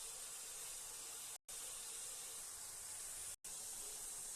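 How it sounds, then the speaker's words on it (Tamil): Steady loud hiss of water boiling in a steamer pot, continuous and close, broken by two brief cuts of silence. "பாத்திரத்தில் ஊற்றி வச்ச தண்ணியும் நல்லா கொதிக்குது"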